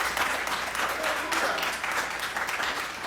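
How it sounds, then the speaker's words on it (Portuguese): Applause from a church congregation during a celebration service, a steady broadband patter of many hands clapping together for about three seconds at even loudness. "Dá uma salva de palmas para o Senhor."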